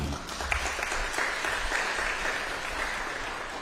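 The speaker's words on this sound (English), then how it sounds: "How about another round of applause?" A pageant audience applauds a high school contestant with steady, dense clapping that holds at an even level from start to finish, with no voices rising above it.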